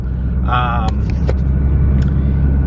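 A 2014 Nissan GT-R Black Edition engine idles with a loud, steady low rumble, close by, with brief rattles and a short tonal whine near the start.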